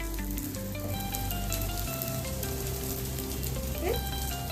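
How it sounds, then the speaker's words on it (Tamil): Spices and ingredients fry in hot oil for a Tamil Arachivita mutton gravy, giving a dense, continuous sizzle with crackling pops, close and steady, with no talk. "எல்லாத்தையும் நம்ம மொத்தமாகவே வந்து வதக்கிக்கலாம் நம்ம எண்ணெயில். ஸோ நல்லா லைட்டாக கொஞ்சம் ஃப்ரை ஆகட்டும்."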